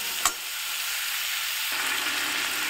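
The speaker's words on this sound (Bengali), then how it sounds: "এগুলোকে মিনিট খানেক আমি নাড়াচাড়া করে নেব। এই সময় গ্যাসের ফ্লেমটাকে মিডিয়ামে রেখেই নাড়ব।" Vegetables fry in a pan over a medium gas flame with a steady, moderately loud sizzle, opening with a single sharp knock of a spoon against the pan, and no talk.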